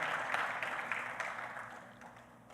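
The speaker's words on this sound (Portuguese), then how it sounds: "Você pode aplaudir a Deus pela palavra dele?" A church congregation applauding during a sermon, a dense even patter of clapping that gradually fades toward the end, with no voices over it.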